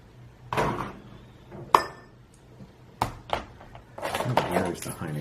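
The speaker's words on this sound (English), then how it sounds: "perhaps I will mix these glasses up so I don't know which is which" Beer glasses shuffled around on a table, several distinct clinks and knocks of glass against the surface at irregular moments, with some muffled handling sounds between them.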